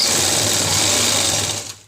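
A sewing machine stitches the hem of a circular palazzo in one close, fast, continuous whirring burst that winds down and stops near the end.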